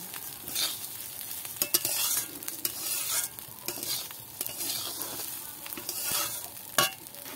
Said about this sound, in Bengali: এখানে আমি গরম জল দিচ্ছি।